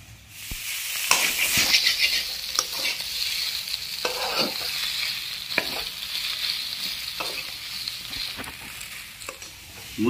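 Chicken gizzard masala sautés in a pan, a steady hissing sizzle punctuated by repeated scraping and stirring strokes at an uneven rhythm, close by with no talk.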